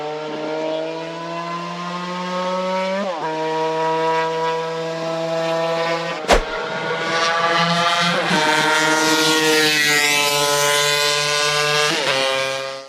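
A Honda RC 116, a 50cc four-stroke twin-cylinder racing motorcycle, revs at very high pitch, its shrill engine note climbing and dropping in repeated bursts with a short sharp blip partway through, loud and close.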